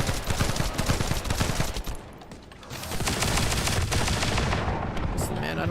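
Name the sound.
gunfire from the video game The First Descendant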